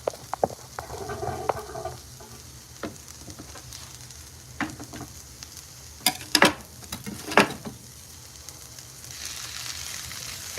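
Sliced cheesesteak beef frying in a hot pan, a steady faint sizzle broken by sharp scraping clicks and taps as the meat is flipped and turned over.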